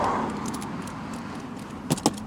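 A Trip Machine Wingman side panel bag on a Royal Enfield Interceptor 650 gets a short zip near the start, then two sharp, close clicks as it latches into place.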